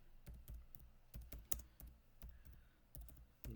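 Typing a CV on a computer keyboard: a string of close, crisp key clicks in an uneven rhythm, some strokes louder than others, with no talk.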